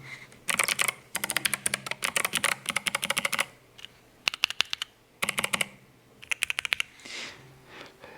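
Bursts of rapid, clacky keypresses on an 8BitDo Retro 18 mechanical numpad in quick runs with short pauses between, close and fairly loud, with no voices.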